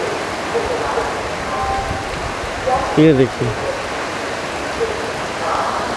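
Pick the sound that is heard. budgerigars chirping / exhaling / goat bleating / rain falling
rain falling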